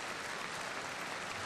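Steady applause from an audience during a political speech, a dense even wash of clapping that holds at a constant level for the whole moment.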